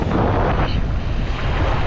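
Gusty wind at a beach on a cloudy day rumbles loudly across the microphone, a continuous blustery roar with a faint wash of surf beneath.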